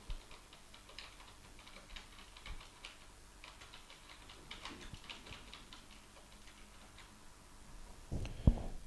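Soft, irregular key clicks from typing a command on a Galaksija Plus home-built computer keyboard, quiet and close, with a sharper thump near the end.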